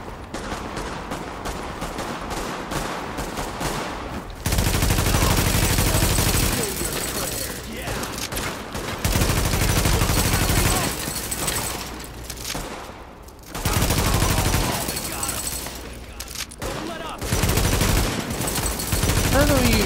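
Sustained gunfire bursts and fusillades in the Tom Clancy's The Division video game, loud and dense in repeated waves, with game voice callouts partly over the shooting.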